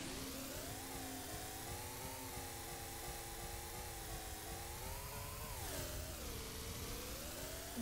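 A car engine in a video game drones steadily and loudly throughout, its pitch rising and dipping as it revs, with no talk heard.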